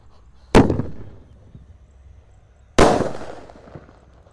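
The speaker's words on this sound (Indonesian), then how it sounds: "di sini ada mercon elang mas guys. Kita nyalakan. Let's go, siap meluncur." Two sharp firework rocket launches a couple of seconds apart, each a loud crack followed by a fading whoosh and rumble outdoors.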